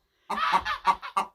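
Backyard chickens let out a short run of five quick, nasal clucks and honk-like calls, close and clear against a silent background.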